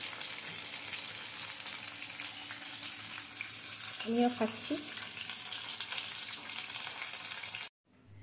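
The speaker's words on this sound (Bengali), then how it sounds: "তো আরেকটা ব্যাচ এদিকে ভাজা চলছে" A batch of fish popcorn frying in hot oil, with a steady crackling sizzle close by and a short spoken phrase near the middle before the sound cuts off abruptly.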